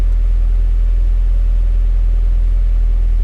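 A Honda F20 engine swapped into a DA Integra runs steadily during Hondata S300 tuning, a loud continuous low rumble with no clear change in pitch and no talk.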